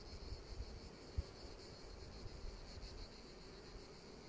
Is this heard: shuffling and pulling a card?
no